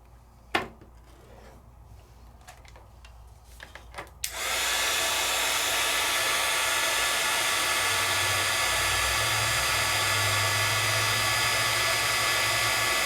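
A heat tool switches on after a few soft handling knocks and blows a steady loud whoosh of hot air to dry wet metallic pigment ink, continuing unbroken and close for the rest.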